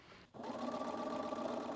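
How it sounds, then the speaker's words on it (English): A sewing machine starts up after a brief pause and runs steadily, stitching quilt pieces together with a close, even mechanical whir and no talk. "Then I take the two pieces that are side by side to the sewing machine and sew them together."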